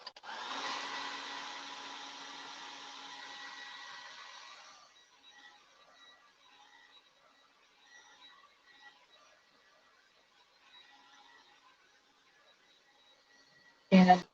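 A small dryer blowing air over freshly iced cookies gives a steady whooshing drone for about five seconds, then cuts off into quiet handling noises, ending with a brief loud clunk.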